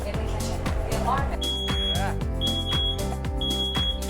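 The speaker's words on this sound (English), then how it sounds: "There's smoke in the kitchen. The alarm." Smoke alarm in a kitchen sounding loud, repeated high electronic beeps in a steady rhythm over music, with a voice talking underneath.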